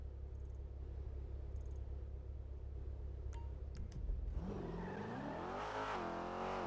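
BMW car in a video game roleplay, a low steady engine hum that rises into a rising, revving whine near the end, with a few faint electronic beeps before it.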